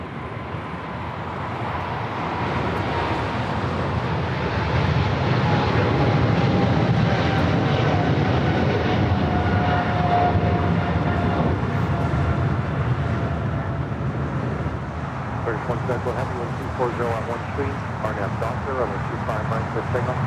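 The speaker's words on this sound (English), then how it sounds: "Japan Airlines heading back to Tokyo Haneda, the 777-300ER" A Japan Airlines Boeing 777-300ER jet at LAX gives off a loud, steady engine roar that holds for the whole stretch, with a slowly falling whine riding above the broad rumble.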